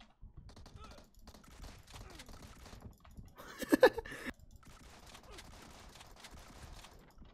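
Muffled, suppressed gunfire from a PUBG Mobile match, with a brief burst of shots around the middle standing out over quiet background game noise and faint talk.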